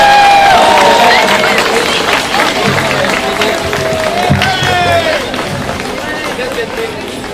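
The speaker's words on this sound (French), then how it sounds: "donc on applaudit très fort" A rally crowd at a Journée des Patriotes gathering in 2013 claps and cheers to welcome a Parti québécois member of the legislature, a dense, steady wash of noise with voices mixed in.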